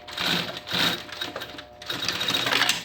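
A sewing machine stitches a 3 cm fabric strip onto a backpack with a panel, running in three short mechanical bursts separated by brief pauses.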